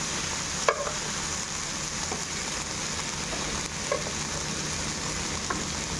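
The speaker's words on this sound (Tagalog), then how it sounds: "Matalsik talaga mantika nito." Hot oil spatters and crackles steadily in a pan where onion is frying for laham, a dense sizzle with a few sharper pops rising above it, no talking.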